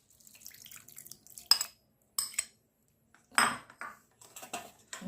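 Soaked tamarind is strained for tamarind chutney, giving sparse clinks of a utensil against a bowl and wet squelching sounds in short separate bursts amid near silence.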